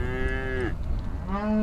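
A cow grazing on a multiple-use trail gives two loud, close moos, a long drawn-out low call that drops off, then a short pause before a second call begins, with no voices.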